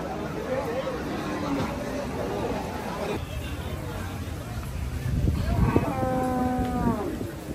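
Cattle at the Hazratpur cattle market in Bangladesh, after Eid, give a drawn-out low moo near the end over a constant murmur of crowd chatter and nearby talk.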